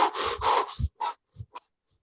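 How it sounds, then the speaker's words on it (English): Rapid, forceful breaths pushed through a mouth rounded into an O shape, as in a Kundalini yoga breathing exercise, come as a few close, breathy rushes that fade into shorter puffs separated by silence. "a rapid breath through the mouth."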